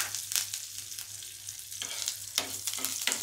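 Curry leaves sizzle and crackle in hot oil with asafoetida and sugar, irregular spattering pops and stirring over a steady frying hiss.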